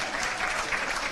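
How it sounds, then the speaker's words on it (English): A crowd at a national athletics track championship cheers and applauds in a dense, continuous wash of clapping and crowd noise for a runner, with no break across the short stretch. "Big cheer goes up for the Bandon Bullet."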